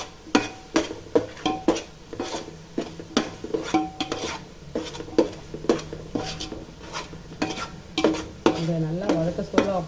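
Onion, chilli, garlic and masala being stirred and sautéed on low heat for Dindigul-style biryani, with repeated scraping strokes of a ladle against the pan over a soft steady sizzle, close and fairly loud.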